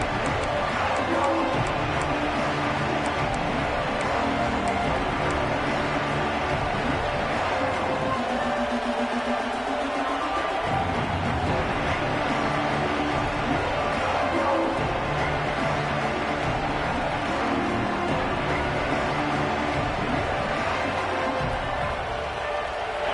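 Steady stadium crowd roar in the NCAA 26 college football video game, a dense continuous murmur that fills the whole stretch, with commentary voices talking over it.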